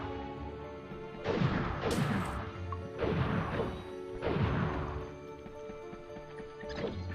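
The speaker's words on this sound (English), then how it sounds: "I guess I should be just smashing the barrels when I see them." Wooden barrels in the MediEvil video game are smashed in a sleeping village, with three or four loud crashing breaks spaced about a second apart over game music.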